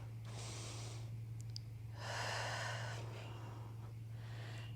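Slow breathing during a pregnancy yoga flow for a woman 33 weeks pregnant: two long, airy breaths, an inhale then a fuller exhale, close and soft over a steady low mains hum.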